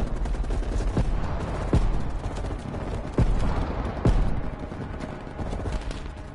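Gunfire crackles through a Call of Duty: Black Ops Cold War battle on a ridge, with sustained bursts and several sharp, loud shots punching out over a rumbling background.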